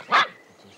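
A big dog lets out a single short, loud bark close by, followed by a moment of quiet room sound.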